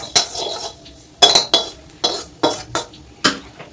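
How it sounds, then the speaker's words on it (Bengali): White mustard and poppy seeds dry-roasted in a dry wok, heard as about seven distinct metallic scrapes and clinks of a spatula against the pan, in a steady close rhythm with no talk. "ওইগুলো আমি শুকনো কড়াইয়ে হালকা করে ভেজে নেব।"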